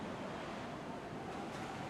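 Steady, loud wind in the DayZ survival game fills the whole stretch as an even, close roar with a soft surf-like rush and no voices.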